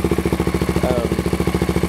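A Honda XL600 street-legal enduro with an XR600 engine and Supertrapp exhaust idles loud and close, its steady rapid thumping pulses running rich without a break.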